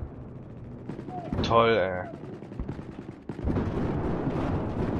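Battlefield 4 combat brings a grenade blast and gunfire as a sharp burst followed by sustained rattling shots, while someone speaks briefly in between.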